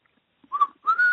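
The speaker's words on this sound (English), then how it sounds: "If you hear the opening whistle, the tritone that everybody knows" A person whistles two clear notes forming a tritone, the opening of West Side Story, short and close with a brief gap between them.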